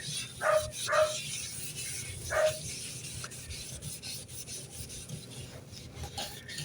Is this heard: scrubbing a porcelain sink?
yes